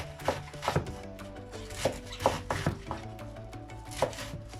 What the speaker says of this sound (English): now we have to chop our cabbage into quite small pieces